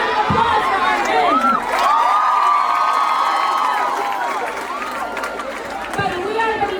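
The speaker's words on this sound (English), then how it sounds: "Give us a round of applause for our men." A crowd at a gathering in Kenya cheers and shouts steadily for several seconds, voices rising and falling together in a loud, sustained roar with scattered clapping mixed in.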